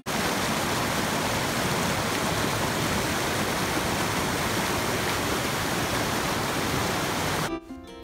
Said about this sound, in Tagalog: At dahil sa lakas din ng agos ng tubig, hirap ding makipag-usap kasi halos di mo marinig.